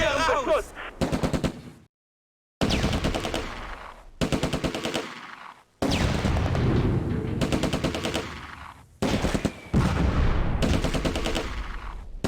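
Heavy gunfire from the WWII tactics game Close Combat: A Bridge Too Far, with loud bursts of automatic fire and single shots coming in dense repeated volleys, broken by short pauses and a brief silent gap.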